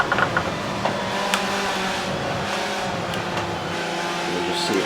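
A Ferrari race car's engine drones steadily in a racing video game at the Spa circuit, a continuous mid-level roar with slight pitch shifts through slow corners.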